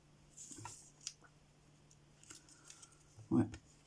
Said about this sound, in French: hop, hop, les ciseaux